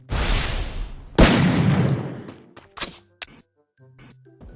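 A grenade blast in the Free Fire shooter game: a loud explosion burst, then a second heavy boom with long rumbling decay, followed by scattered short clicks and game effect tones.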